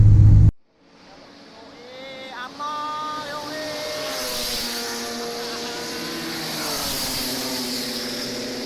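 Mercedes-Benz C240 race car engine, a championship-winning Mercedes-Benz Cup car, heard from inside: a brief loud burst cuts off, then the engine revs build up through rising pitch and hold a sustained, moderately loud drone.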